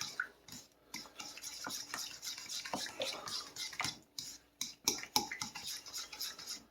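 Zucchini bread batter being mixed in a bowl, a quiet series of scraping and tapping strokes of a utensil against the bowl in an irregular rhythm, close and faint, with no talking.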